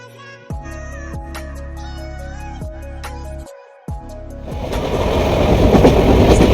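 A train at a railway station, heard on the way to a trek to Siddhagad Fort, gives loud rhythmic wheel clatter over rail joints, then rushes past in a rising broadband roar.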